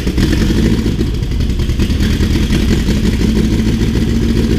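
A backyard-built turbo engine runs loud and close with a continuous clattering idle that holds steady throughout.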